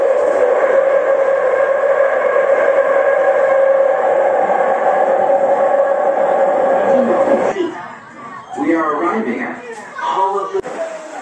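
A Qingdao Metro Line 3 subway train hums with a loud, steady tonal motor whine for several seconds before it fades, then a person talks over the quieter station ambience.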